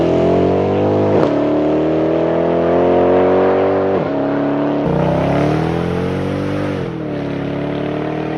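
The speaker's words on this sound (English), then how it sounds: "Here's a compilation of what it sounds like now, including hard accelerations, cold starts, and onboard noise." Mercedes SL55 AMG V8 with the muffler deleted, accelerating hard: a loud, raspy exhaust roar climbing in pitch through successive gear changes, each shift marked by a brief dip before the rise resumes.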